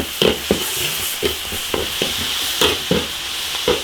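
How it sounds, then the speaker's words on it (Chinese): Ginger, pickled chilies, chili sauce and spices stir-fry in hot oil in an iron wok, with a constant loud sizzle broken by regular scraping strokes of a spatula about twice a second, close up. "起锅烧油，炒调料，生姜泡椒，辣椒酱少不了"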